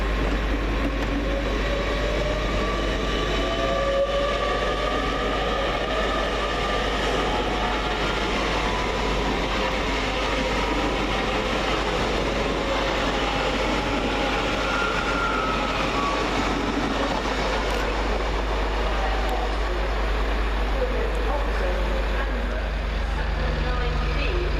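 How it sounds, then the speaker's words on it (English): Great Western Railway train 802112, a delayed Penzance to London Paddington service, pulls out of Reading station with a loud, steady low rumble and hum that carries throughout, faint voices mixed into the background. "the next train out is 802112. Departing with the delayed 1404 Great Western Railway service from Penzance to"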